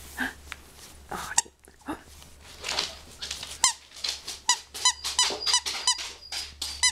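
A dog's squeaky toy gives sharp, repeated squeaks in quick irregular bursts as puppies play nearby, with some breathing and soft snuffling between squeezes.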